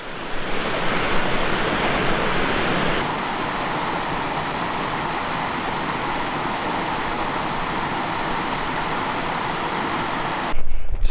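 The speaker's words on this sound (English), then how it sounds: "this is Hole in the Wall Springs, also known as Big Springs, coming right off that cliff." Spring water at Hole in the Wall Springs (Big Springs) on Jasper's South Boundary Trail in Alberta pours off a cliff. It makes a loud, steady roaring rush of falling water that holds for the whole span.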